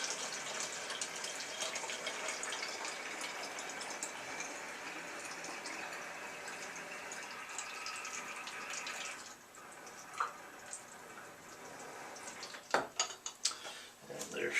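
Tap water runs steadily into a bottle being filled to the 500 ml mark, a continuous close hiss that cuts off partway, followed by a few faint knocks and handling noises.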